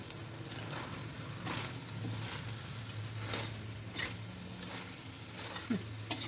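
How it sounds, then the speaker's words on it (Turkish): Meat and chopped peppers and onions sizzle in a pan, braising for Turkish meat kavurma, with a steady crackling hiss, punctuated by periodic scraping stirs and clinks of a utensil. "Etimiz biraz da soğan ve biberle kavrulsun."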